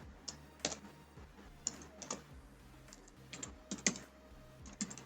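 Code being typed on a computer keyboard, a quiet stream of irregular key clicks with a few sharper taps, close up and with no voices.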